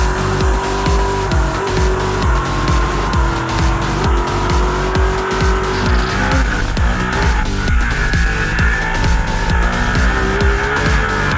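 Ducati 1299 Panigale superbikes ride hard around the Portimao circuit on a sunny day, loud high-revving engines rising and falling with rapid gear shifts and a steady roar.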